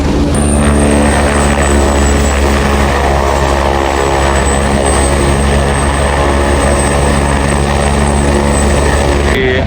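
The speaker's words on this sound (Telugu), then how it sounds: "హెలికాప్టర్ వెయిటింగ్ లాంచ్ అనమాట." Helicopter waiting to launch at the Kedarnath base camp helipad, its loud, steady rotor and turbine drone close and continuous throughout with no letup.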